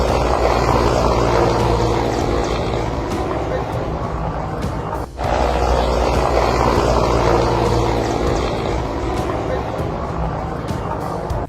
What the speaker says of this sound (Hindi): इस वीडियो में साफ देख सकते हैं कि कुछ सेकंड के लिए वो हेलीकॉप्टर नीचे आता है